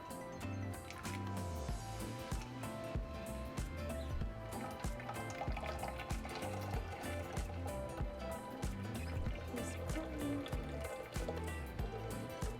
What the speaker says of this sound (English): now we're going to strain it and transfer it into our jar